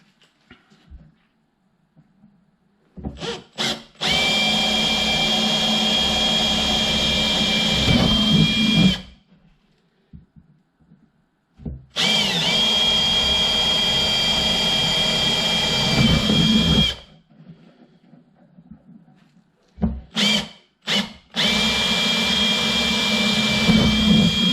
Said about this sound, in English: This is a 5mm drill I'm going to be drilling through with.